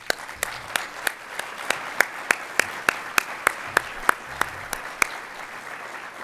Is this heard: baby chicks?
no